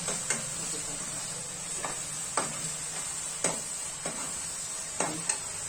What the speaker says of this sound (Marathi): आता याला मी छान फ्राय करते.